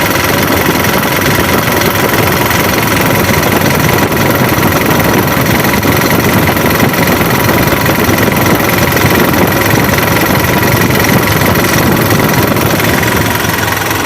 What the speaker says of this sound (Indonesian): seperti itulah putaran mesinnya dan suara mesinnya seperti ini teman-teman